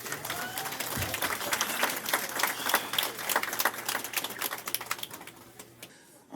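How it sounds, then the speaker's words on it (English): Audience applause for a performer called forward at an elders' tribute event, a crowd's steady, sharp clapping with a faint low hum beneath, tapering off before a short voice at the end. "Let's give him a round of applause."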